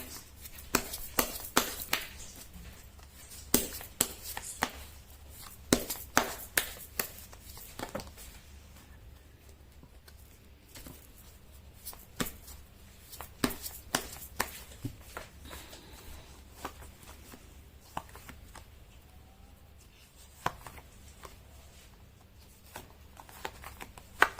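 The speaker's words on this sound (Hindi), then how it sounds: "मैं कर लेती हूँ कार्ड की शफलिंग।" Tarot cards shuffled by hand in a steady run of soft riffling and slapping bursts, close and fairly quiet against a faint background hum, with no talking.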